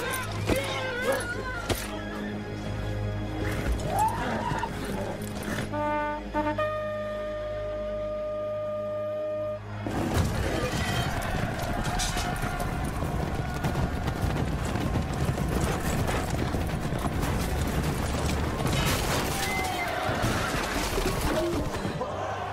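Horses at a medieval joust, with hoofbeats clopping and thudding amid a busy, noisy scene; voices are heard around the hooves and the sound grows denser and louder partway through.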